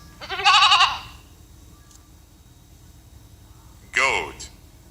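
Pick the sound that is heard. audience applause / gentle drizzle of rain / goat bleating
goat bleating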